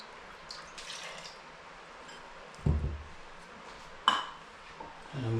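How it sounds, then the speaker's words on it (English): Warm milk is rinsed out of a container as liquid pours and splashes in a kitchen, with two sharp clunks and bursts of water among quieter trickling and dripping. "so I'm going to sort of rinse that out. I don't want to waste that yeast"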